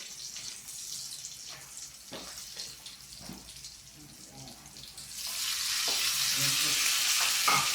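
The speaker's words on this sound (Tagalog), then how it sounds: "Saka mag-brown ng bawang sibuyas" Garlic and onion browning in a pan, a close sizzle with stirring clatter that swells into a louder, steady fry midway through, with faint background voices.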